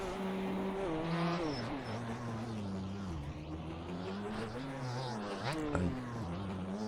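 A motocross bike engine from the MX Bikes racing game drones steadily throughout, its revs rising and dipping as it shifts and accelerates, loud and continuous with no one speaking.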